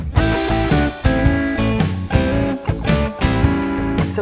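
A second blues riff rings out on electric guitar, alone and close, with repeated plucked phrases and short pauses in a loose rhythmic pattern.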